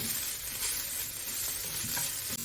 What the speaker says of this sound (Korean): 물기를 꼭 짜고 기름을 충분히 넣고 볶아줍니다.